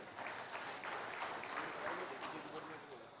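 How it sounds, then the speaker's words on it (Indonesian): A crowd claps for a former vice president at a Bugis-Makassar merchants' gathering and halal bi halal event. The applause is faint and steady across the short stretch, with speech audible beneath it. "Tepuk tangan buat beliau"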